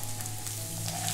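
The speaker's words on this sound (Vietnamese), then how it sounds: "Rồi mình cho mấy cái này vô mình xào luôn." Shallots and garlic stir-frying in oil in a pan, a steady close sizzle with light stirring scrapes throughout, no voices.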